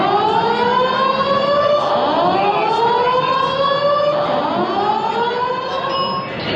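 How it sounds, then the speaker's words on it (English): Fire alarm going off inside a large expo hall: a loud electronic siren with repeated rising sweeping tones that overlap and echo continuously through the reverberant space, with no talk over it. "The fire alarm's going off in here."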